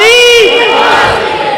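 A large religious gathering answers a preacher's call with a loud unified shout of a religious slogan, a sustained chorus of many voices that fades out gradually.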